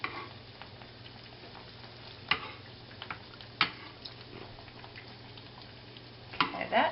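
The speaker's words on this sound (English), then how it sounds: "Now we're going to fry these until they get golden brown." Plantain slices frying in oil in a pan, a faint continuous sizzle with occasional soft pops and clicks, heard alone at low volume.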